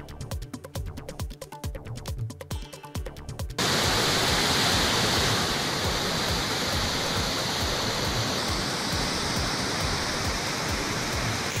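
A river swollen by continuous heavy rain in Aurangabad district, Maharashtra, roaring as a loud, dense, constant rush of water after a brief stretch of other sound at the start.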